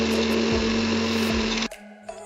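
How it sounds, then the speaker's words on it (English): An electric kitchen grinder whirs steadily while grinding a biscuit packet for chocolate lava cake batter, giving a loud, constant motor hum that cuts off abruptly after under two seconds, leaving faint rattles. "So take a grinder and grind it."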